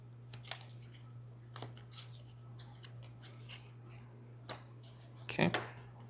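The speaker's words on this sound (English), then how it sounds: "So I'll shuffle these up and then draw 1 more." A small deck of cards is shuffled for a card game, scattered soft crisp flicks over a steady low hum, ending in a louder, denser burst of shuffling.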